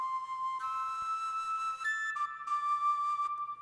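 Virtual flute-like wind instrument with a clean sustain key switch, playing smooth held notes with soft transitions, steady and fairly quiet, no talking.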